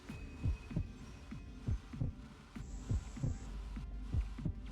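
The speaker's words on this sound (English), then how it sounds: "I'm hearing the heartbeat again." A heartbeat effect in the video game The Hundred Line: Last Defense Academy, with deep muffled thumps in a steady paired rhythm over a low hum, about two beats per second, soft and alone.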